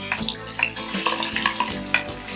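Chopped onions fry in moderately hot oil for a tomato sugo, a close, crackling sizzle with irregular spattering pops and scraping stirs, no voices over it.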